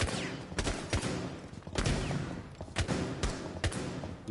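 Gunshots fired overhead, heard as repeated sharp, loud reports at irregular intervals, some in quick pairs, with a rough, noisy background.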